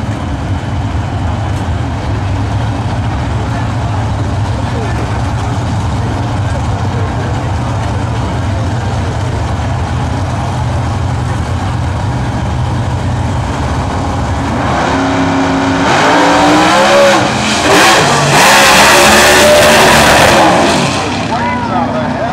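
Chicago Outlaw Superstock drag race cars, among them a 1967 Chevy Nova, rumble in the distance at a drag strip during a final round, then swell into a loud, roaring pass that builds briefly before fading back toward the end.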